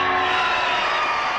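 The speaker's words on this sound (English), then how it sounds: "You hear the crowd applauding." A crowd greets President Kennedy with a dense, continuous wash of applause and cheering, loud and steady throughout, heard as an old crackly recording.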